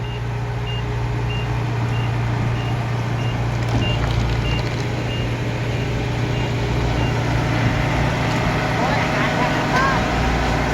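A Kubota DC-70G combine harvester engine drones steadily and loudly throughout, a constant low hum with faint intermittent beeping.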